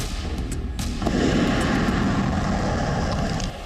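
A heavy, sustained explosion rumble standing in for an atomic bombing, loud and booming for several seconds before dropping off near the end, with no voices.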